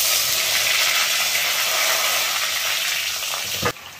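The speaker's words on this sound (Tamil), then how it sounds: "இப்போ வெங்காயம் பூண்டு நல்லா வதங்கிடுச்சு" Small onions, crushed garlic, green chili and curry leaves sauté in hot oil in a pan. A steady close hiss and sizzle cuts off abruptly near the end with a soft knock.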